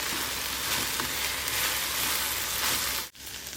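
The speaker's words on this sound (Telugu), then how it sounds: "బెండకాయలు ఉల్లిపాయలు జిగురు లేకుండా వేగుతున్నాయి" Okra and onions fry in a pan with a loud, steady, close sizzle that holds constant, then briefly cuts out near the end before resuming.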